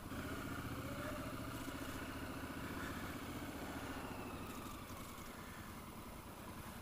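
A Triumph Scrambler, a tall, heavy motorcycle, rides with a steady, fairly loud engine drone and a throbbing mid-range beat that eases slightly toward the end.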